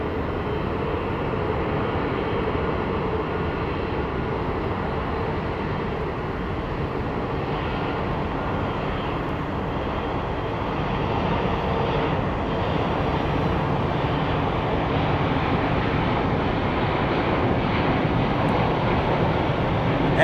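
Jet airliner engines at Phoenix Sky Harbor International Airport as an aircraft taxis or rolls out, a loud, steady broadband roar that holds for the full stretch with a slight rise toward the end and no talking.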